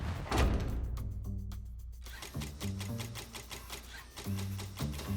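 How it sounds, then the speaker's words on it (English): Compressor stacking leather washers tightly onto a K-Bar knife handle, a rapid mechanical rattle in pulsing bursts over a steady low hum, close and fairly loud with no talk. "The washers are stacked tight onto the blade handle with a compressor."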